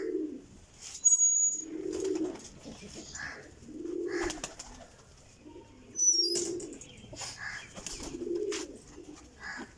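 Flying pigeons offered for sale coo in a steady series of low, rounded calls roughly every two seconds, close and clear, with a few higher chirps and faint rustling between them.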